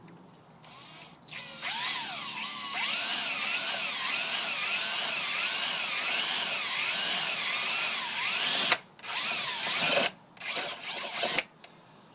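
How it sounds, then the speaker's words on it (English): A power drill with a step bit grinds through sheet metal in a steady whine that rises and falls, then stops and starts in short bursts. "Good old step drill, or step drill bit."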